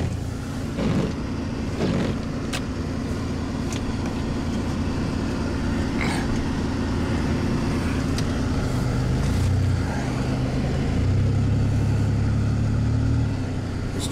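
Pickup truck in four-wheel drive rolling down a snow-covered road after a blizzard, a constant loud engine drone and tire rumble from inside the cab, with scattered knocks and a rising engine note toward the end.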